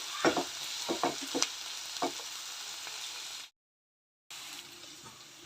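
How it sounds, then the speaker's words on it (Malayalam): Onions for a village-style chicken curry fry in a pan with a steady moderate sizzle and a few stirring scrapes and knocks. A short silent gap interrupts the sound before the frying continues. "ഉള്ളി ഒന്ന് നന്നായിട്ട് ഫ്രൈ ആയി വരട്ടെ"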